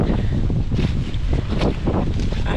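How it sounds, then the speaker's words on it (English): Strong wind gusting through a garden, a loud, rough rush buffeting the microphone steadily for a few seconds with no voices. "oh, the wind is blowing"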